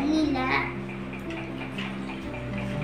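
Hands are rubbed with soap and swished in water, a soft wet splashing and rubbing that runs close and quiet beneath a voice talking.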